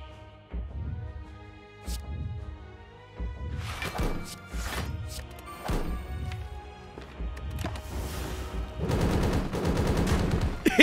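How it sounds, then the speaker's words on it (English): A plasma cannon fires continuously in a video game, a rapid string of loud, punchy blasts that builds into a dense, sustained barrage toward the end. "Just empty the clip."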